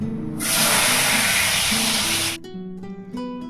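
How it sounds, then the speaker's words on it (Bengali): Vegetables fry in a pot for khichuri, starting with a loud, close burst of hissing spatter as they hit the hot oil. The hiss holds for about two seconds, then drops away into quieter tonal sounds. "এদিকে দেখো সব সবজিগুলোকে একে একে করে ভেজে নিচ্ছি"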